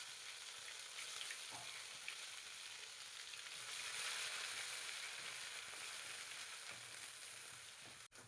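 Ground masala paste sizzles steadily in plenty of hot oil with mustard seeds and cumin for a Kolhapuri misal, a dense continuous frying hiss close by, with a faint clink near the end.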